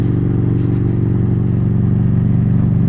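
Harley-Davidson Street Rod 750 motorcycle with a Vance & Hines exhaust rumbling steadily up close, a loud, continuous low engine drone with faint mechanical clatter throughout.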